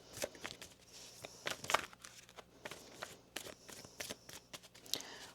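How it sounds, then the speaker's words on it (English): Tarot cards shuffled by hand in a quiet room, a run of soft papery riffles and taps spread over several seconds, fairly close and moderately faint with no talk. "One more shuffle here."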